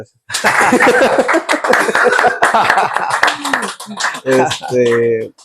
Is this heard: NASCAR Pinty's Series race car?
no